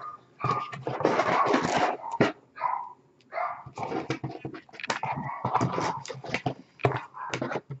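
Agitated dogs bark, yip and whimper almost nonstop in a frantic jumble, heard indoors from another part of the house at moderate loudness with no speech.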